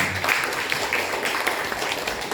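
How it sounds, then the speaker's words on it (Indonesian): Audience applause at a learning community gathering, a steady, even patter of many hands clapping at moderate loudness, continuous and slightly distant, with no voices over it. "Tepuk tangan untuk kita semua."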